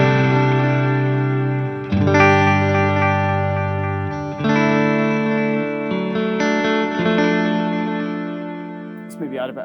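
Electric guitar chords ring through a Fender Tone Master Pro's pushed space echo preamp, sustained and distorted with chorus-like shimmer and echo, each strum decaying before the next, loud and alone.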